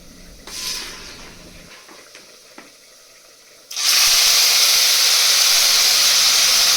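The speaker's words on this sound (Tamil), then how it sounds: "நல்லா எண்ணெய் அதிகமாக விட்டுட்டு ஊறுகாய் போட்டு நல்லா தாளிச்சுக்கணுங்க" Narthangai citron pickle tipped into plenty of hot oil for tempering: a quiet stretch with faint knocks, then a sudden loud, steady hissing sizzle that fills the rest of the clip.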